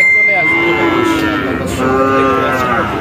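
A Holstein Friesian heifer lets out a long, drawn-out moo close by at a cattle market, with a busy crowd murmuring in the background.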